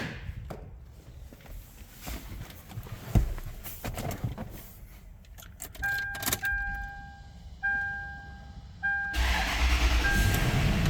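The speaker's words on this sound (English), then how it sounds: "let's take it for a drive" A Toyota 4Runner, just repaired after being bought broken down, backs out of a garage: shifting engine and movement noise, a few clunks and thumps, intermittent electronic chimes, then a louder steady rumble of driving near the end.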